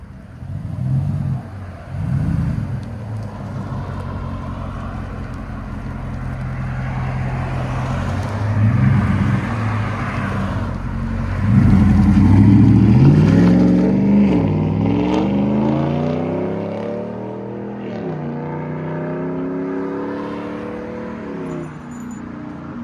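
A 2018 RAM truck with a 5.7L HEMI V8, X-pipe and Carven R-Series exhaust rumbles, then revs hard and pulls away, the deep engine note rising and fading as it drives off.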